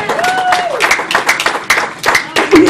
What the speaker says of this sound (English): clap to the glory of God